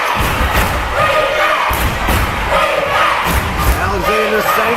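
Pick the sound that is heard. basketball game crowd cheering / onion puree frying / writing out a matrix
basketball game crowd cheering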